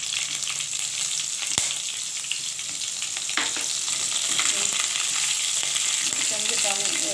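Green chilies sizzle in hot oil in a pan for an egg and potato curry with coconut milk and cumin, a steady, dense crackling fry with a few clinks from stirring.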